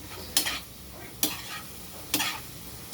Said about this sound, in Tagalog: Mix na siya yung canton at saka yung lalagyan natin ng seasoning doon sa canton.